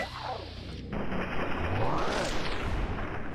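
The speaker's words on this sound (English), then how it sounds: "You just got shot by a guy in a tavern." A single loud gunshot rings out inside a tavern in Fallout 3, a sudden blast that leaves a rumbling, noisy tail.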